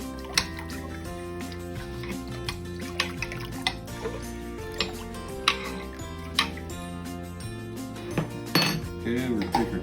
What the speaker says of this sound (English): go ahead and give it a little mix